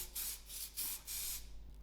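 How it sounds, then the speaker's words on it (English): Cooking spray hisses onto parchment paper lining an air fryer basket in several short, close bursts, with brief pauses between them. "I'm going to use spray and cook onto the parchment paper."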